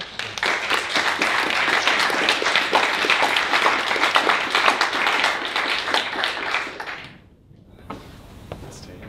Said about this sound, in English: If you give a round of applause for the panelists.